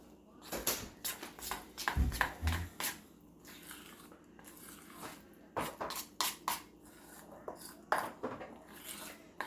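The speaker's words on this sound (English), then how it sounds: "now I'm going to get my spoon here. I'm going to incorporate that in." A spoon scrapes and clinks against a container while stirring fed sourdough starter in a kitchen, irregular close clatter and scraping bursts, with some quiet talk in between.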